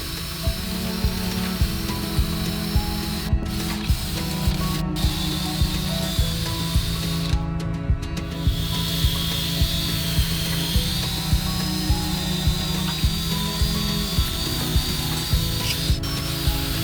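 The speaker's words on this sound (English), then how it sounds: "the cast alloy parts are cleaned up using this rubber stripping wheel" Rubber stripping wheel on a power tool working over cast alloy swingarm parts from a 1992 Suzuki RM125, a steady continuous whirring grind with rubbing texture that runs throughout without pause.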